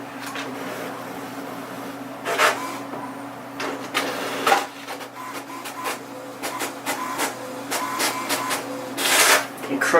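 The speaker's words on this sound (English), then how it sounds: "Kind of surprised because usually most printers don't print out that quick." An HP Tango inkjet printer runs off a demo page, with a whirring feed mechanism and repeated sharp carriage passes at close range over a steady low hum.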